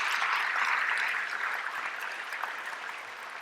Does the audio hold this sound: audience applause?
yes